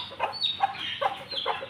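Backyard hen clucking near a newly hatched chick, a run of short, fairly close clucks repeating every half second or so, with no talking.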